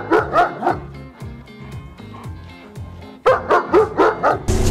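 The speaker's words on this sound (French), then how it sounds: "le chien que t'as dans les mains" A dog held in someone's arms barks repeatedly during bite training, loud, close barks in quick bursts with short pauses and whimpering yelps between them.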